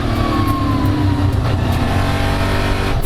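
EuroNASCAR stock cars racing at Valencia, a loud, dense roar of several engines revving and passing close together, continuous throughout with no voices.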